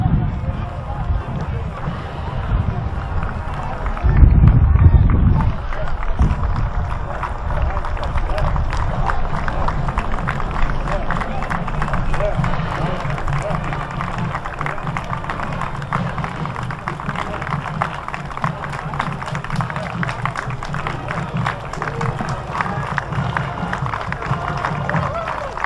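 Parade crowd at the Lilac Parade in Highland Park, Rochester, NY, applauding on its feet in a steady spread of scattered clapping with a louder burst early on, people talking throughout.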